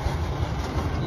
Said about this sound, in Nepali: यहाँ चाहिँ रेल चढिरहेछ है रेल आयो